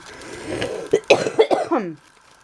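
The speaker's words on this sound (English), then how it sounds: "Sorry about the cough." A single person coughs several times in quick succession, close and fairly loud, with a throat-clearing quality, followed by near silence.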